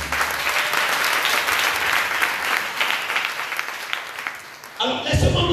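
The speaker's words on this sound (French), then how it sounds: "Acclame le Seigneur" A church congregation at a Sunday service applauding the Lord, dense sustained clapping from many hands filling the room, ending as a voice comes in.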